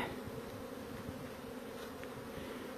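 Steady dense buzzing of many honey bees at a hive, continuous and close, with no other sounds standing out.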